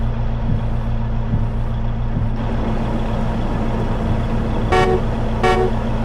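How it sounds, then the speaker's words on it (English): Two loud blasts of a train horn fitted to a semi truck, each about half a second with strong harmonics, sounding over the steady low rumble of the truck's idling diesel engine. "Train horn."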